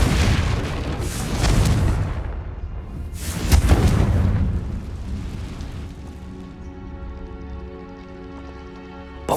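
A Confringo blasting curse in Hogwarts Legacy erupts in two deep, loud booming blasts with rumbling debris, then settles into a quieter humming, ringing tail.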